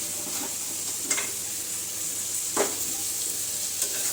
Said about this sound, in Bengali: মাছগুলি দিয়ে আরও কিছুক্ষণ আমি কষাবো।